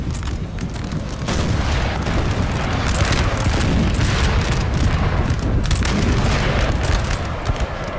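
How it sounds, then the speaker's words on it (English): Artillery fire and musketry in Napoleon: Total War, a continuous roar of booms and crackling volleys blending into one loud, rumbling battle din. "most artillery shots will miss"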